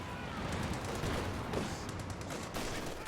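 Constant harassing gunfire in the game Company of Heroes 2: rapid crackling bursts of small-arms and machine-gun fire over rumbling battle noise, steady and fairly loud.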